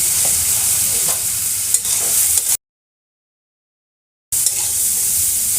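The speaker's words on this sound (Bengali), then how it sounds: "2 মিনিট ভেজে নেব।" Crab frying in mustard oil in a pan, a steady loud sizzle with occasional stirring scrapes, broken by a short gap of silence before the frying resumes.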